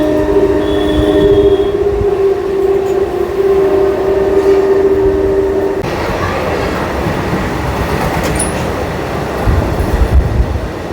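A train on the reopened Amghata–Krishnanagar rail line passes close by with a loud, sustained horn blast for several seconds, followed by heavy rumbling and clattering of the cars; crowd noise lies faintly beneath.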